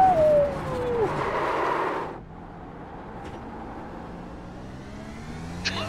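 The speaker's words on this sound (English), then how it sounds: "that was the car that made the noise" Race car engine in the iRacing simulator, a Kamel GT car at Magny-Cours, with a falling whine and dense roar that cut off abruptly after about two seconds, leaving a lower, steady engine rumble with faint higher tones.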